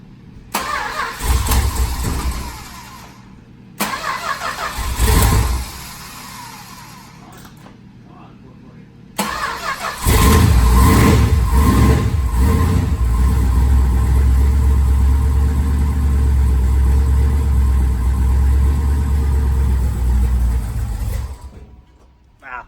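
A Dodge Coronet 440 drag car bought cheaply cranks in short loud bursts, then fires and settles into a heavy, rumbling run that continues loudly for over ten seconds before cutting off, with voices around it.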